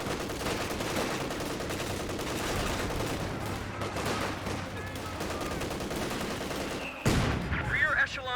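Rifle fire crackles in the Company of Heroes 2 battle as rifleman squads engage, with dense overlapping shots and rapid bursts forming a continuous, loud volley and a sharper crack near the end.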